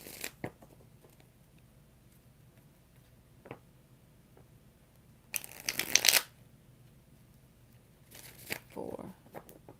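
Tarot cards being shuffled in a few quick riffling bursts, crisp and close, with quiet pauses and faint taps between them.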